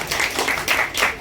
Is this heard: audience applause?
yes